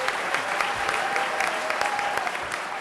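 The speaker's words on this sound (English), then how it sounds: "So please give our 4 candidates a round of applause." Sustained audience applause for four gubernatorial debate candidates fills the hall, a dense even wash of clapping from many hands holding steady throughout.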